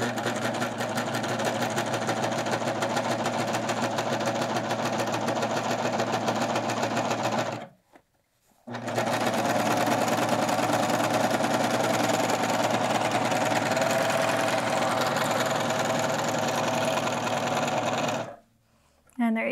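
Close and loud, a sewing machine runs a shoulder seam on a quilted jacket in two long, steady stretches with a brief stop between them and another near the end.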